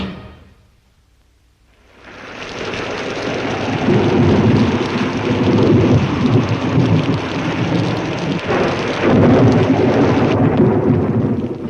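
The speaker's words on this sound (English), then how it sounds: "when the old lightning starts lightning, the old thunder starts thundering" Heavy rain pours steadily on a stormy night while deep thunder rumbles and cracks through it, loud and close, after a quiet opening moment; no one speaks.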